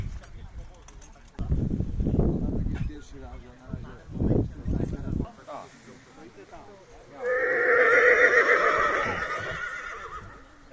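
Friesian draft horse stallions at a Dutch show setting: a long, loud whinny rings out after a stretch of people talking, with faint hoof and stable noises beneath.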